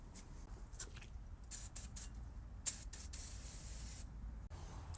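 Short hissing bursts of aerosol brake parts cleaner, several quick squirts followed by a longer sustained spray, close by with no talking, during Infiniti G37 rear brake work.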